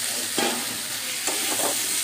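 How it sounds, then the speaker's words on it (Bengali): Spice masala sizzles and fries in a pan while a spoon stirs it, giving a steady close crackle with a few louder scraping stirs. "মশলাটা চলো ভেজে নিই"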